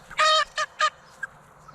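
Chickens let out three quick, loud, honking squawks close by, then a faint short call over quiet background noise.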